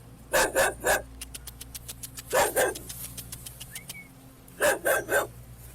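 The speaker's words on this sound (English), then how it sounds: "We have a loose dog that's around the scene." A loose dog barks near a crime scene where a body was found, sharp bark bursts coming in clusters with pauses between, fairly close and loud over a steady low hum and faint bird chirps.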